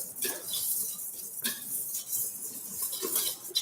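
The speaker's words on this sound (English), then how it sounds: "Again, I'm using the whisk, but this time I'm trying not to over whisk it" A whisk scraping and tapping against a bowl while stirring a cocoa mixture, brisk repeated metallic strokes, close and fairly quiet, with no talking.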